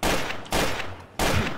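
Three rapid bursts of gunfire crackle in quick succession in the Garry's Mod video game, loud and close with short gaps between them.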